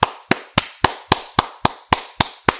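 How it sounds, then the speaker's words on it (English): About ten sharp hand claps in a slow, steady rhythm, close and loud with nothing else in between, like a lone mocking round of applause. "give you guys all a big round of applause"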